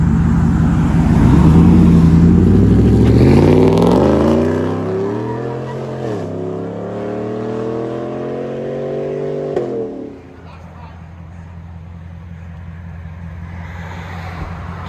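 Supercharged GMC Sierra pickup with a 6.2L V8 revs loudly, engine pitch climbing and falling through several pulls as it drives off, then settling to a lower idle-like drone; faint talk may sit underneath.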